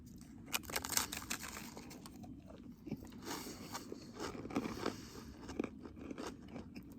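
Close-up crunching and biting of a dry, brittle dehydrated ice cream sandwich, with repeated crisp crackles and chewing sounds throughout, no talking.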